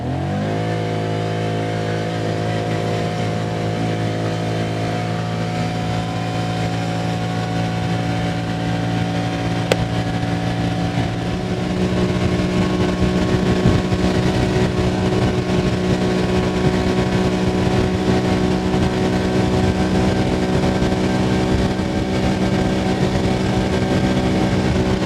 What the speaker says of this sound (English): Top speed run in this farmer's field. In high range, 2-wheel drive.